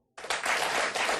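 A studio audience at a televised interview abruptly bursts into applause, a burst of many hands clapping that starts suddenly and stays loud and close for about a second.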